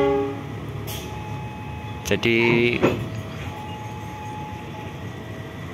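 Empty passenger train cars being shunted in a station yard on their way to Solo: low rumbling hum, then a brief loud metallic screech and clank of the cars moving, with someone talking over it.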